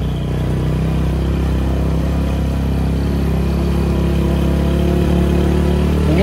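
Vehicle engine at full throttle climbing a very steep hill toward a campsite after dark, a loud, steady, close drone that holds its strain throughout with no pause.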